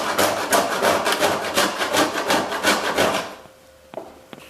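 Whole nutmeg rasped on a grater for spiced hot chocolate, a loud, close run of quick scraping strokes in steady rhythm that stops near the end, followed by a couple of faint taps.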